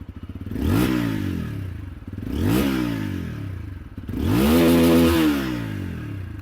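TVS Apache RTR 160 4V motorcycle with a bullpup exhaust revved hard three times, each blip climbing in pitch and falling back to idle, the last rev held longest; loud and close with no talk.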